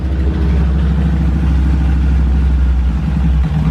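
A tuned engine idles close by after being adjusted down, giving a loud, steady, low lumpy rumble with a fast regular pulsing clatter that holds evenly for a few seconds with no talking.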